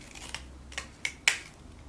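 Scissors snipping a V shape into paper for a crab craft: four crisp, separate cuts at a slow, uneven pace, each louder than the last, close and quiet between.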